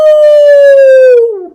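A single voice imitates a wolf howl, holding one long, clear, slowly falling tone before it trails off at the end.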